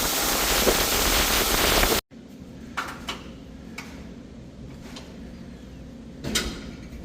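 Broadband roaring buffet of wind striking an open microphone outdoors beside a grain cart on a farm, loud and steady for the first two seconds, then cut to a quieter windy rumble with a few light knocks.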